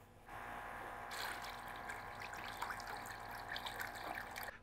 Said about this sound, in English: Got a lot of leaves and debris in it, so I'm just straining all that stuff out.